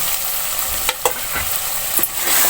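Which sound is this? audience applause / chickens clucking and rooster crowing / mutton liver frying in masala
mutton liver frying in masala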